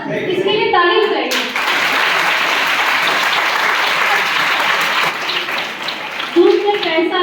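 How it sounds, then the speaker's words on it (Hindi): An audience bursts into sustained applause at a talk about saving water, many hands clapping loudly together for several seconds before fading as a voice returns. "और इसके लिए ताली बजाइए।"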